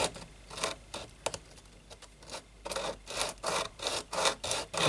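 A miniature wargaming figure scraped back and forth across sandpaper gives close, rhythmic rasping strokes, slow and soft at first, then quicker and louder in a regular series.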